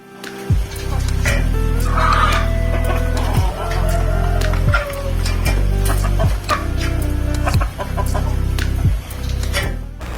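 Chickens clucking and calling close by, a loud repeated series of drawn-out rising cackles in a steady rhythm, with other birds faintly in the background.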